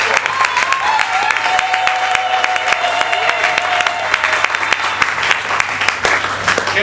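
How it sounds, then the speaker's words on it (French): A church congregation at a Sunday service cheering and clapping loudly, with steady dense applause and voices throughout, unbroken for several seconds. "Quelqu'un peut acclamer très fort?"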